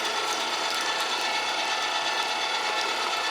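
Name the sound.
electric meat grinder grinding cold meat for sausage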